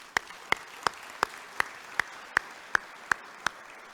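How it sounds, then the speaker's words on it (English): Sparse, evenly spaced claps at a Rotary club meeting: about ten sharp, clear hand claps in a slow steady rhythm over a quiet room. "Can we give them a round of applause?"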